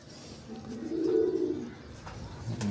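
A pigeon coos softly and close by, a low throaty call swelling in the middle of a short, otherwise quiet moment.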